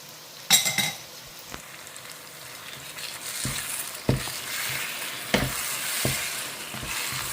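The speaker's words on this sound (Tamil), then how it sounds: "அழகாக வதக்கிடலாம் இதை இதுலேயே அப்படியே நல்லா ஃப்ரை பண்ணணும்" Eggplant with ground coconut paste sautéing in a pan, with a steady soft sizzle broken by several sharp clinks and scrapes of a spoon stirring against the metal, close and moderately loud with no talking.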